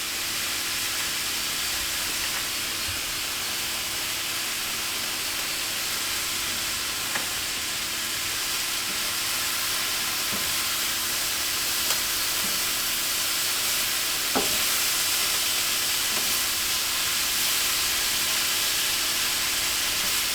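A bun heats on a hot griddle with a steady, loud, even sizzle and hiss that holds throughout, broken only by a few faint ticks.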